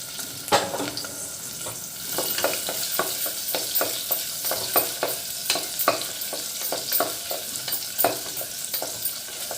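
Small pieces of fresh or dried coconut fry in hot oil for a sweet rice dish, with a steady crackling sizzle broken by frequent sharp scrapes and taps of a spoon stirring the pan, close and fairly even.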